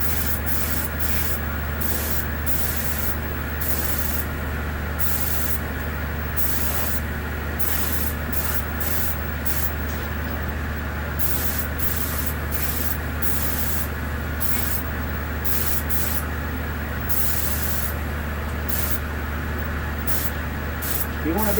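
Spray gun applying Cerakote coating to a firearm held on a stick in the muzzle, a steady continuous hiss broken by short rhythmic bursts and pauses, close and loud over a constant low hum, with occasional speech.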